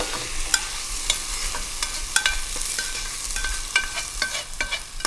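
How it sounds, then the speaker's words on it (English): Cooked shepherd's pie vegetables scraped from a hot heavy pan into a bowl, with irregular metallic scrapes and clinks over a soft sizzling hiss. "But you just scrape it in there."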